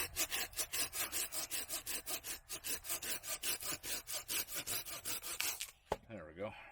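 A hand saw works through a knot in wood with fast, steady back-and-forth strokes, loud and close. The sawing stops abruptly near the end and a brief voice follows.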